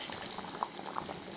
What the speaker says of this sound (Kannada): ಕುದೀತಾ ಇದೆ, ಎಲ್ಲ ಹೊಂದ್ಕೊಂಡಿದೆ.